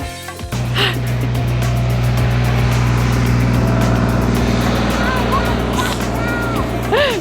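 A tractor engine drives past at close range, a loud, steady low rumble with a droning tone that rises and falls slightly as it goes by.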